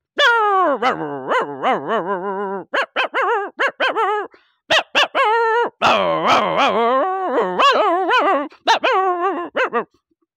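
A man imitates a whole pack of dogs barking, yelping and howling together, a dense, nearly continuous tangle of overlapping barks, whines and rising howls, loud and close with brief gaps.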